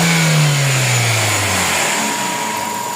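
Toyota 4A-FE car engine with an idle problem, heard close and loud as a revving engine note that slowly falls back toward idle under a steady mechanical whine, with no voices.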